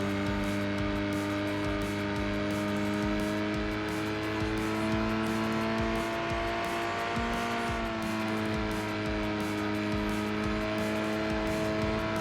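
A compact truck-based race car in Gran Turismo 2 screams at sustained high revs in a long fourth gear, a loud, steady engine whine with strong harmonics that dips briefly around a shift, then climbs again, with no talk over it.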